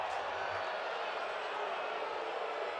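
Crowd at a Florida vs Georgia college baseball game murmuring and grumbling after a ball call, a continuous, distant wash of many voices with no distinct claps, steady in level.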